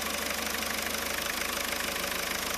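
Car engine running close by with its RPM raised slightly, a steady, even mechanical drone with a fast regular pulse throughout and no talk.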